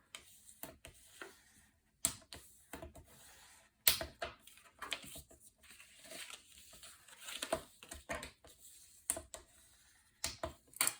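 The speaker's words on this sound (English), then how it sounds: "Next, I'm going to take my paper and fold in on those score lines." Paper card is folded along score lines for a Christmas card, producing sharp creases, soft rubs and crinkles in irregular bursts with quiet gaps, close and faint.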